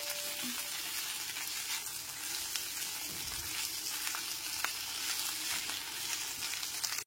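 Spring onion dish frying with chopped coriander stirred in, a steady close sizzle with soft crackles and faint stirring scrapes and no voices.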